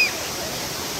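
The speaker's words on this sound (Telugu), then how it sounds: "వాటర్ ఫ్లో అయితే ఎక్కువగా అవుతూ ఉంది ఇప్పుడు" Rapur waterfall rushing with a strong flow, a steady broadband roar of falling water filling the whole second, close and continuous with no pauses.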